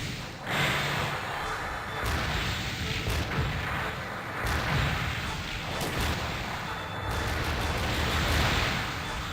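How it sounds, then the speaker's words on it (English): Repeated missile blasts and heavy impacts from leg-mounted missiles in Mobile Suit Gundam Side Story: The Blue Destiny, a loud, dense barrage of booming bursts that swells and recedes in waves over a constant rumble. "Damn leg missiles."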